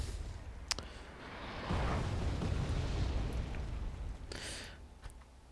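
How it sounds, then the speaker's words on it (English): Artillery shells exploding in the Wargame European Escalation video game, a heavy rolling boom that swells and lingers for several seconds, with sharp crackles and distant pops scattered around it. "The artillery in this game is really amazing. It's a lot of fun to see all these shiny explosions."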